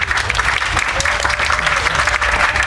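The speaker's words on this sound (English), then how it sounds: "And let's give them a round of applause." A live audience claps for volunteers at a comedy hypnosis show at Burning Man, steady close applause from a crowd running the whole time with no break.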